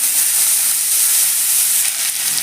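Pumpkin green stalks frying in mustard oil with potatoes give a steady, close, bright sizzle and hiss that stays even throughout, with no talking.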